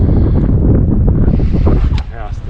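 Strong, roaring wind buffeting the microphone at a cold canoe fishing spot, loud and steady before easing slightly, with a voice talking near the end.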